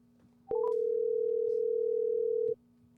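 Telephone dial tone while placing a call, a single steady pure tone lasting about two seconds, preceded by a couple of brief beeps, clear and alone over faint background hum.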